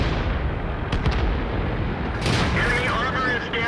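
Tank gun fire in World of Tanks from a T37 light tank, heavy booming blasts and rumbling battle noise filling the whole clip, with a sharp report near the start and another burst partway through.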